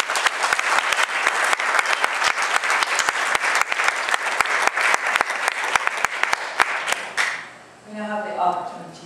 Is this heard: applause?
yes